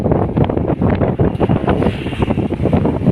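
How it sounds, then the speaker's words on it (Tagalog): Strong wind buffets the microphone in a steady, loud roar with gusting surges, with no voices heard. "Lakas ang hangin."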